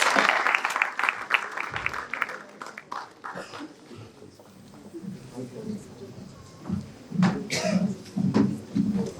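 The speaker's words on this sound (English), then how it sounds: "Please give her a huge round of applause." An audience at a morning speech contest session claps for a contestant, a short burst of applause at the start that quickly thins out, followed by a voice talking and some rustling and footsteps.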